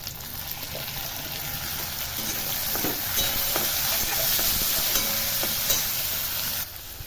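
Chopped tomato being stirred and fried with onion and spices in a pan for a spicy pasta, a continuous loud sizzle with scraping stir strokes, briefly dropping near the end.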